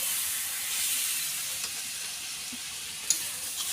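Salt and spices sizzle in hot mustard oil while tengra fish fries, a steady soft hiss with occasional small pops and crackles, fairly quiet and close.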